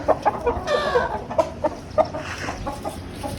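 Desi (native breed) chickens cluck in short, irregular bursts, close by, with a longer drawn-out call in the middle and a hum of farmyard noise underneath.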